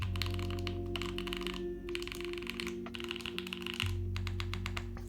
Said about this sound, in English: Let me unplug it, or else the F keys are going to make noises.